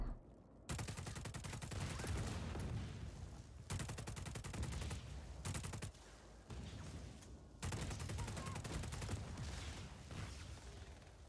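Bursts of rapid automatic gunfire in the Just Cause 4 video game, several long sustained volleys broken by short pauses, loud and close.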